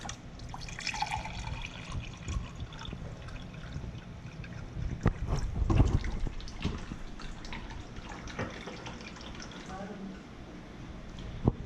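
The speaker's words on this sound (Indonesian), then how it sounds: "Nah, ini dari keran ya." Tap water runs from a kitchen faucet in Jeddah into a glass, a soft continuous trickle with a few splashes, while someone talks over it.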